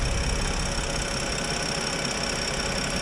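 A BMW F30 335i xDrive engine idles steadily with its intake tube removed, a continuous low rumble and faint knocking, heard close up with no voices.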